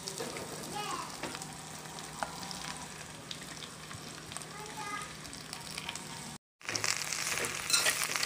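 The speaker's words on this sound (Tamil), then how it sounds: "வதக்கிட்டு நம்ம இப்போ வெண்டைக்காய் மொத்தமாக போட்டுடலாம்." Okra and onions sizzle steadily in a hot pan, a soft continuous frying crackle with occasional stirring scrapes and a brief cut near the end.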